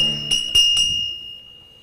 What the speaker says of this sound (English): Barkeep, ring the bell.